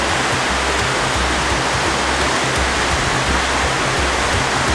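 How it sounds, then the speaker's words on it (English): A big, powerful river rushes in a dense, constant roar of churning water, loud and close with no letup and no other sounds. "Big, powerful river."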